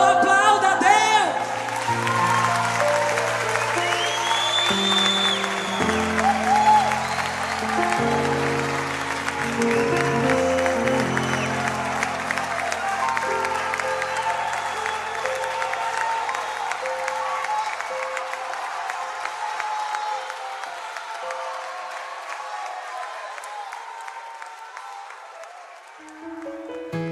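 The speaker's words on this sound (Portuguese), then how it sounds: "Aplauda a Deus." Church congregation applauding during a Portuguese-language worship service, steady sustained clapping with a few cheers over music and a singer's voice, loud throughout before easing slightly at the end.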